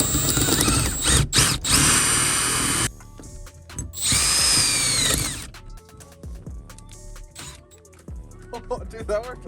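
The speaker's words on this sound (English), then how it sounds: "We're just gonna take a drill bit, drill through the lock, and hopefully break in." A power drill whirs in loud bursts, starting and stopping several times, drilling through a metal lock with rattling clicks between runs.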